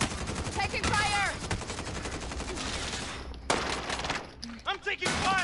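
Gunfire in a PS4 shooter game comes in rapid automatic bursts and single cracks, loud and close, broken by short pauses, with players talking over the shots.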